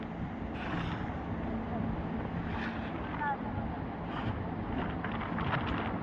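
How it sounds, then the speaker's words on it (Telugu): Wind blows across an open maize field in the sun, a steady broadband rush and rumble buffeting the microphone for several seconds, with faint voices in the background. "ఎండ కొడుతుంది, గాలి వస్తుంది"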